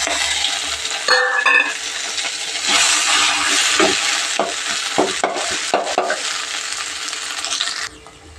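Ground fenugreek greens are stirred into a hot pan for chutney, the spoon scraping and clinking against metal in uneven strokes over a soft, continuous sizzle.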